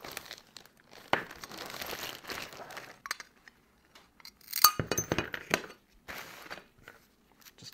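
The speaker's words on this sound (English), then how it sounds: "So I'm going to cut up this plate just like I just showed you then" A ceramic plate being cut into pieces, with crisp crackling snaps and brittle crunches in scattered bursts, sharpest near the middle, close up with quiet gaps between cuts.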